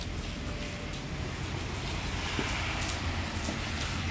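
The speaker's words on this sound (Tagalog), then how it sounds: "May umuulan." Steady, soft rain patters continuously with a faint low rumble beneath, no voices present.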